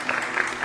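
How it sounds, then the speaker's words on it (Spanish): Applause from a church congregation, a short burst of steady clapping that fills the room at moderate loudness, with a voice faintly mixed in. "Aplausos"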